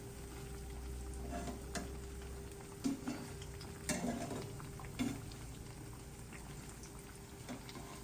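Patishapta and gokul pitha fry slowly in a pan, giving a steady low sizzle with a few soft stirring knocks scattered through it, close by, and no voices.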